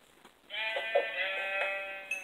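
A Minecraft sheep bleats in a clear, wavering digital baa lasting over a second, close and alone against a quiet game background.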